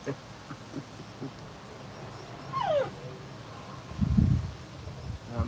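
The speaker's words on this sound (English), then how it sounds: "Dog is right here, yes. He's here, he's sitting down beside me." A dog whimpers and gives soft yips in a quiet room, with short high whines and a brief low grumble near the end, close by and fairly faint.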